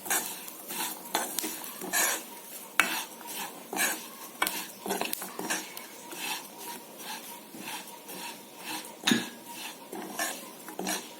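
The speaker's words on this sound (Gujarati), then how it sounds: "ધીમી આંચે બધાને ધીરે ધીરે શેકીશું અને મિક્સ કરતા રહીશું" Sesame seeds, peanuts, poppy seeds, curry leaves, grated coconut and spices are slowly dry-roasted over a low flame while a spoon stirs and scrapes the pan in steady, repeated strokes, with light metallic clinks and a faint sizzle underneath.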